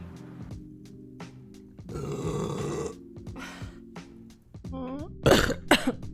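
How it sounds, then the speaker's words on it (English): A woman coughs and clears her throat in rough bursts, followed by a long, loud, croaking burp, with some voiced grunts and sharp noises toward the end, heard up close. "I just coughed and burped."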